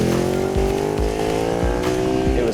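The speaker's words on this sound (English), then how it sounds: "The exhaust is an Akropovich full system, releases another 5 horsepower" Motorcycle fitted with an Akrapovic full exhaust system, a 205-plus horsepower bike, droning loud and close with a steady harmonic engine note and a few rhythmic low thumps, no voices.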